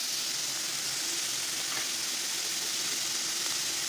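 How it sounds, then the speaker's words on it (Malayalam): Sliced onions frying in a pan give a dense, even sizzle that holds steady and close throughout, with no voices over it. "സവാള ഇട്ട് കൊടുത്ത് നന്നായിട്ടൊന്ന് ഇളക്കി കൊടുക്കുക."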